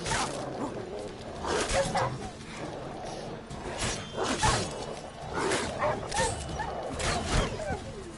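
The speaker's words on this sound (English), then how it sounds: "Level 1 wild dogs." Wild dogs in The Witcher III bark in repeated short yapping bursts at a steady rhythm, mixed with game sounds, while a person talks over them.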